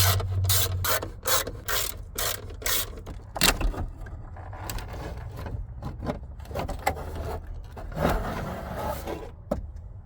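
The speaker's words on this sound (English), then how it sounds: "Now we have 4 7mm screws we need to remove." Four 7mm screws are being removed from a GMT400 truck transmission during a teardown. A ratchet clicks in a quick run of bursts at first, then scattered scraping and metallic handling follow, close up with no talking.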